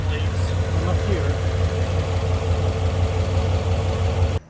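A freshly built Ford Coyote engine idles with a steady, close mechanical rumble that cuts off abruptly at the end.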